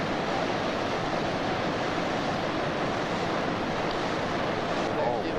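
At the boil of a low-head dam, water churns in a loud, steady, broadband roar with a boat nearby and wind buffeting the microphone.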